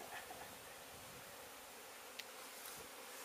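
Bees buzz around a hive tucked under a travel trailer, a steady, moderately faint insect drone running throughout with a couple of brief clicks, no voices.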